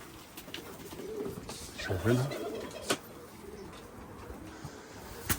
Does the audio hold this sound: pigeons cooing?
yes